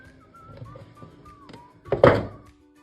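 A single hollow thunk as home-baked mineral-water bread is knocked out of its baking tin, preceded by faint light taps and a thin whistling tone in a quiet kitchen.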